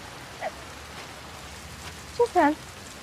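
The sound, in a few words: light rain falling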